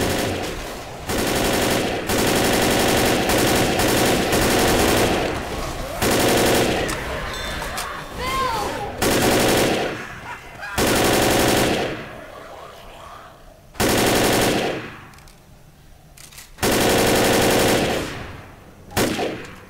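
Left 4 Dead gunfire, loud sustained automatic bursts broken by short pauses, with scattered single volleys and gaps of quieter game ambience between them.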